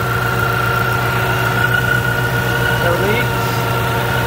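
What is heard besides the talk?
2014 Mustang GT engine idling after alternator install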